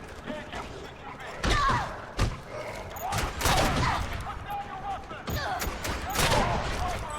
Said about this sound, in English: Pretty sure I'm just shooting these guys in the spine.